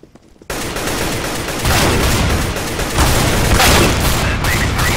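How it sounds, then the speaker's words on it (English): Gunfire and a grenade blast in an online shooter video game on bot mode, breaking in after a short quiet start as a dense, loud, continuous barrage of shots and booms that swells and stays heavy to the end. "I'm throwing a grenade."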